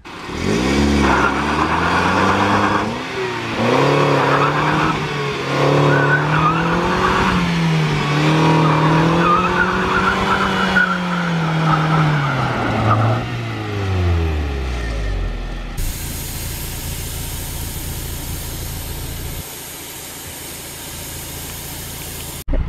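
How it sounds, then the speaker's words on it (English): A Mazda Miata's engine revs and strains as the car slides and skids on a rough off-road trail, loud and close with wavering pitch, then drops to a quieter hum. "car is kind of sliding right here where we are"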